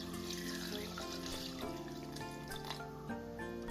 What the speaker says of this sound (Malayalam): ഇനി അതിലേക്ക് ഒരു 3/4 ഗ്ലാസ് തിളപ്പിച്ചാറിയ വെള്ളം.